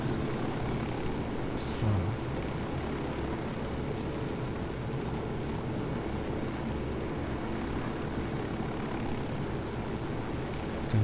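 A helicopter flies in the video game Ghost Recon Wildlands, giving a steady, continuous rotor-and-engine drone for the whole stretch. A voice briefly speaks over it.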